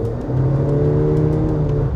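A Honda CR-V small SUV with a 1.5-liter engine revs hard under acceleration, giving a steady, loud, droning engine note that holds close and continuous with no talking.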